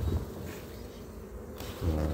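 Honeybees buzzing around a hive feeder as it is scraped and set back in place; a continuous close droning hum that rises louder at the start and end, with no speech.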